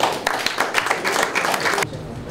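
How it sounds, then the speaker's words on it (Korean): Audience applause at an East Asia Special Olympics taekwondo general assembly, steady clapping from a crowd that stops abruptly, leaving quiet room tone. "큰 박수 한번 부탁합니다."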